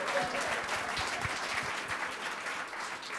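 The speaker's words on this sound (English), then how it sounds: "How about a round of applause for the Museum of Broadcast Communication Little Theater Players?" A theatre audience at a broadcast museum gives dense, sustained applause, a steady wash of many hands clapping at moderate distance throughout, with no talk over it.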